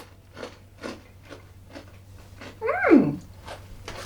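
Tomato-flavoured savoury snacks crunch in a run of soft, close bites, evenly spaced, with a brief vocal sound breaking in near the middle.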